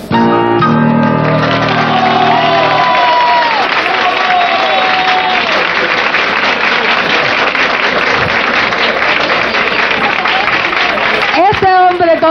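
Studio audience applause for a musician on a 1988 Cuban television show, a loud, steady wash of clapping and crowd noise lasting throughout, with music fading under it at the start.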